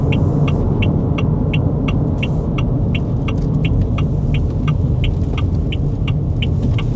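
A Haval Jolion Hybrid accelerates in sport mode, with a steady, loud low road and engine rumble heard from inside the cabin, plus a faint regular ticking over the top and no talk.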